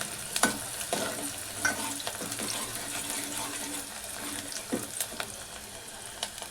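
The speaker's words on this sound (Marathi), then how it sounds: "कांदा चांगलं परतून घ्यायचं" Onion sautés in a pan with a bay leaf for a Malvani chicken dish, giving a continuous close sizzle punctuated by irregular spoon scrapes and taps against the pan.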